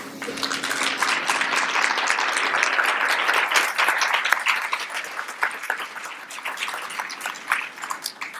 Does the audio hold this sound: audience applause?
yes